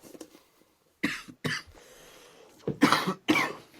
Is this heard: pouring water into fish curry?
no